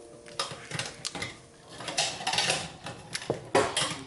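Ceramic bowls and dishes clink and clatter in irregular bursts as they are taken out and handled in a home kitchen while a Danish holiday rice dessert is prepared, close and fairly crisp with no talking.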